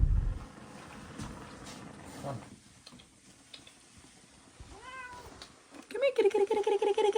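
A cat meows faintly in a quiet room, with a few soft, rising-and-falling calls in the middle, then a run of brisk repeated meows near the end over low background rustle.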